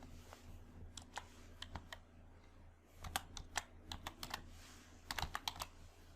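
Quiet, close keystrokes on a computer keyboard come in short irregular bursts of taps with brief pauses between them, and no one speaks.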